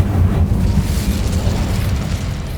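Spell-casting in Hogwarts Legacy: an Incendio fire spell bursts with a loud, dense low rumbling whoosh that stays strong for nearly three seconds, fading only slightly.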